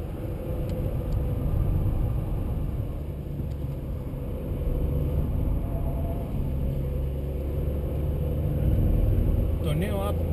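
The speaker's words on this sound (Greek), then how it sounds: "Όπως καταλάβατε και από το χαρακτηριστικό ήχο, ο κινητήρας είναι τρικύλινδρος." A Volkswagen up! three-cylinder engine runs steadily with a low, slightly uneven thrum and muffled road rumble, heard from inside the cabin.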